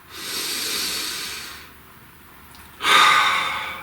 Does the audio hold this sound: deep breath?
yes